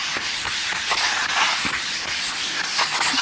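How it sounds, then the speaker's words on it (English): A light sander works over filler on a car body panel, a steady close abrasive rubbing with faint rhythmic strokes throughout and no voices. "I'll run over the top of this with a light sander"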